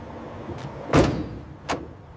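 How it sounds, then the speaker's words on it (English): Heavy cargo truck doors swinging shut after the last pallet is loaded at a papaya processing plant: two loud bangs about three-quarters of a second apart, the first louder with a short ringing tail, over low background hum. "The heavy doors are swung shut."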